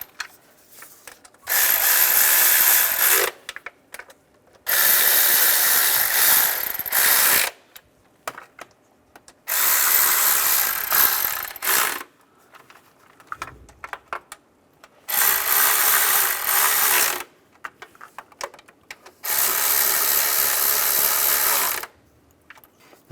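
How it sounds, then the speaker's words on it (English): Ratchet snugging intake manifold nuts on a 2004-2010 BMW X3, in five bursts of rapid clicking separated by short pauses, close and fairly loud with no talk. "And get the nuts started. I'm just going to snug these up a little bit."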